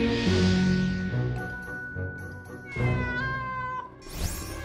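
A cat meows in a series of clear, tonal calls up close, several short mews in a row with brief pauses between them, over faint background noise.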